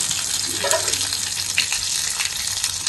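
Onions, curry leaves and two dried red chillies fry in hot oil, a continuous close sizzle with occasional stirring clinks and spatters, alone with no talk.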